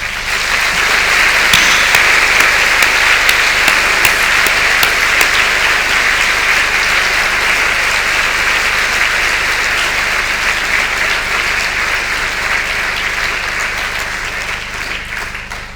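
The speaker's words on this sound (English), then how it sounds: "So please give them a big round of applause." Graduation ceremony audience giving a big round of applause, loud sustained clapping from a large crowd that holds steady and fades gently toward the end.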